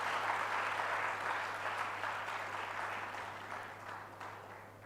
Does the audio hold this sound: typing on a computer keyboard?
no